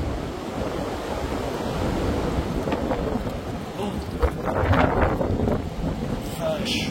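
Strong storm wind roars through trees in the dark during Storm Floriane in January, a continuous loud rushing with gusts swelling louder toward the middle, and a man mutters briefly under it.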